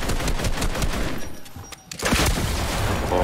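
Rapid bursts of gunfire in Fortnite, dense continuous automatic shots that pause briefly and then resume, loud and close, with no talk.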